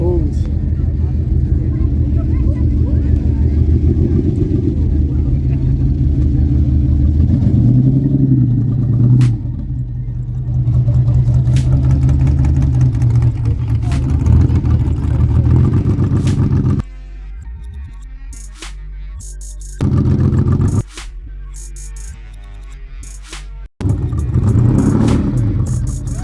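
A Lamborghini Countach engine runs loud and close at the East Rand Motor Show in South Africa, its deep rumble swelling and dropping through rev blips and then cutting out briefly before returning, with people talking over it throughout.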